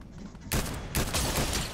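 Rapid gunfire in a Fortnite match while the player is being shot at, dense bursts of shots starting abruptly and continuing loud and close, with a second burst following, no talking.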